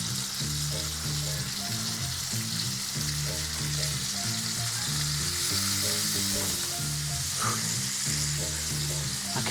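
A New York strip steak sizzles loudly in butter in a pan, making a steady, dense frying hiss throughout, with faint rhythmic music playing underneath.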